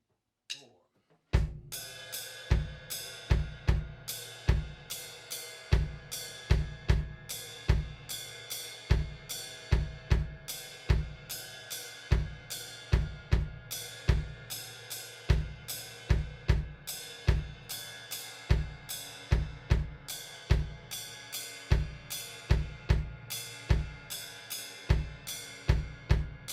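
A drum kit plays a steady, repeating right-side paradiddle sticking pattern with evenly spaced hits, loud and close, with no talking.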